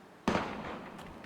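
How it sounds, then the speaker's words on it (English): Gunfire from the video game Valkyria Chronicles: one sharp crack followed by a short ringing decay, then a faint second report, fairly quiet and without talk. "Gunfire!"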